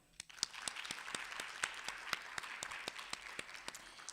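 An audience at a library event gives a short burst of clapping, a dense, moderately distant patter of many hands that continues steadily without a voice over it.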